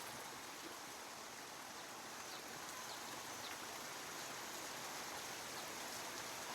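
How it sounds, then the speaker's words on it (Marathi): Heavy rain in a village, a steady, dense hiss of rainfall that stays even and continuous throughout, distant and fairly faint, with no voices. "पाऊस पण खूप आहे"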